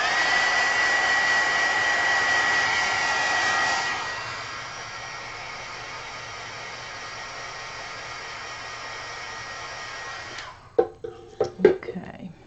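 A heat dryer used for drying a mixed media card blows with a loud, steady whoosh for about four seconds, then continues more softly until it cuts off, followed by a few sharp handling clicks and taps.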